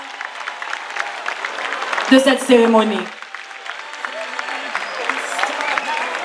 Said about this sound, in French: Messieurs, applaudissez s'il vous plaît.